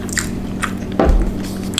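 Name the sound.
biting crunchy anchovies in spicy Malaysian dish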